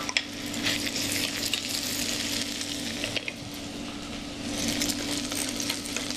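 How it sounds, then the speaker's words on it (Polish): Steady crackling sizzle of onion frying in hot oil, close and continuous, with occasional light clinks and stirring. "Sprawdzamy, czy olej jest już właściwie podgrzany, zaczyna się smażyć."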